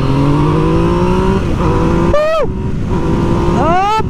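A Yamaha MT-09 motorcycle accelerates onto a highway, its engine note climbing steadily then snapping up through quick gear changes, loud and close under heavy wind rush.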